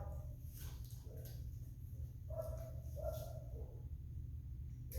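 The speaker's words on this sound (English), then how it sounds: "She hears dogs barking." Faint, distant dog barks rise now and then above a steady low rumble, scattered across the clip.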